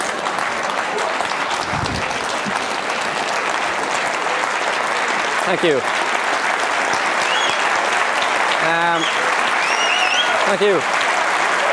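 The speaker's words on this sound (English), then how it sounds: "give her a round of applause" Audience applause at a TED talk on brain magic, a steady full-room clapping that runs throughout, with a speaker briefly saying thanks over it.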